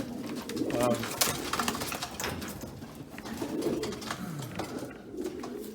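Pigeon hens coo softly in low, throaty bursts inside a loft, with rustling and shuffling noises close by.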